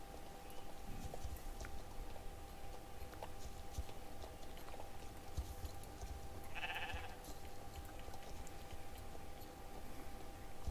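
Sheep bleat in the video game Star Stable Online, one short bleat rising out of steady game ambience and music near the middle, moderately loud.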